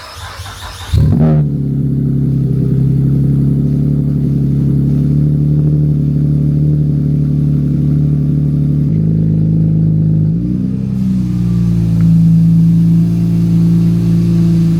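A boosted Acura TL-S engine fires up for its first start on a new tune, catching after a brief crank and settling into a loud, steady idle close by, with a slight shift in pitch near the end.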